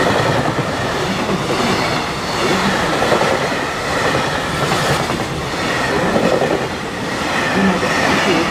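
A freight train passes on the Tokaido Main Line in Japan, loud and close, with a dense rumble, rhythmic wheel clatter and faint squeal running steadily throughout.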